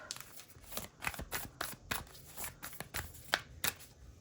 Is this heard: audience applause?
no